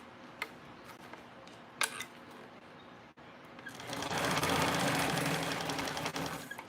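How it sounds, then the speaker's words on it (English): A sewing machine stitches a 3/8-inch seam on a TrailBlazer project, starting after a few soft handling clicks and then running steadily and loudly for the last few seconds. "So I'm stitching this on at 3/8 of an inch seam allowance."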